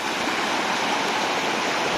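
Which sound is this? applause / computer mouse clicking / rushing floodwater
rushing floodwater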